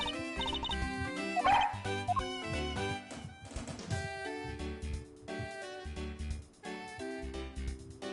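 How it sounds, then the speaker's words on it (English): Police dog Missile in the Ace Attorney Investigations video game barks and yips in short bursts over busy game music, fairly quiet and mixed beneath the melody. "What a fitting name for a police dog that dashes out in front and attacks."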